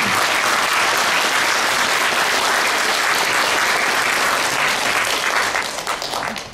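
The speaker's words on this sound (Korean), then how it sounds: "일어서서 박수를 한번 보내주세요." A standing audience at a Korean War commemoration bursts into loud, dense applause that holds steady, then thins into scattered claps near the end, with no talk over it.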